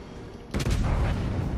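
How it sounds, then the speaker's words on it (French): A naval gun salvo booms out in the video game World of Warships Legends, a sudden heavy blast followed by a rolling low rumble that sustains over steady background noise. "On va essayer de rebalancer une rafale."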